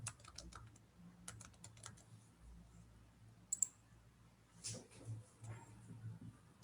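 Typing on a computer keyboard while entering a search in the Azure portal: quiet, irregular clusters of light key clicks at close range with faint room hum and no speech.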